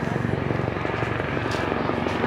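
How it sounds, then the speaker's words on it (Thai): A helicopter roars loudly overhead in New York City with a steady rhythmic rotor thump and engine drone, constant throughout. "นี่เฮลิคอปเตอร์มาแล้วทุกคน"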